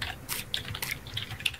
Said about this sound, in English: I'm using the keyboard now